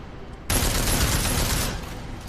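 A video game weapon opens up suddenly in a dense, continuous burst of rapid fire lasting over a second, loud and close, then stops abruptly.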